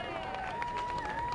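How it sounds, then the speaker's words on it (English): A Boston crowd applauds law enforcement officials at the end of the Boston Marathon standoff, a continuous, distant wash of clapping alongside a steady tone and a voice. "you hear the crowd breaking into applause"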